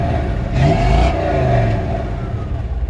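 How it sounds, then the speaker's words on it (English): A 1955 Chevrolet 3100 five-window pickup engine revs up once through its exhaust, then settles back to a loud, rumbling idle at close range. "I'll rev up the engine a little bit so we can hear the exhaust"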